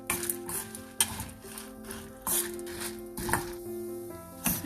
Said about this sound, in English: We'll add chana dal to this and fry till the chana dal gets roasted properly.